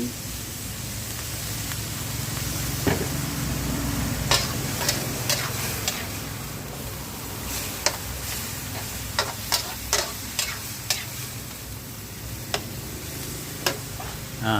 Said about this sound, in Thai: ผัดพริกแกงกับหมูสับให้เข้ากันเลยครับ